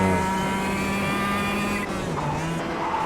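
Kart engine in the racing game KartKraft revving steadily at high pitch, holding a sustained buzzing drone with a slight dip and recovery in tone partway through, loud and close with no talk over it.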